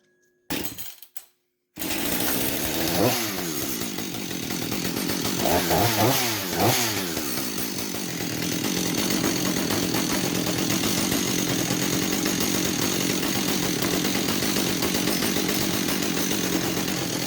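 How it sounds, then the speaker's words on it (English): A Husqvarna 562 chainsaw with a badly scored piston and cylinder is fired up after a few quick pulls and then runs loud and close, its engine revving up and down several times before holding a steady buzzing drone. "this is that saw that had the piston in the cylinder beat up pretty good"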